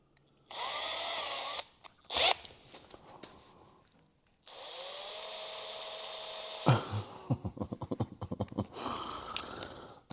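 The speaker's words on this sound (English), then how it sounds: "if I put this in the drill right in the end here" A power drill whirs in short bursts, spinning an engine valve held in its chuck during a car repair, with clattering and scraping between runs.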